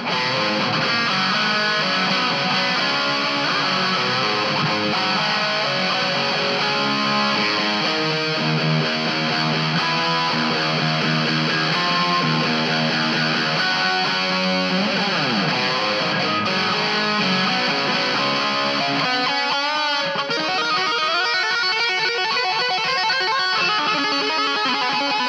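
Distorted electric guitar played through a Line 6 AmpliFi 75 amp modeler on a preset, a dense, saturated riff with sustained chords and lead lines, loud and steady with no voices.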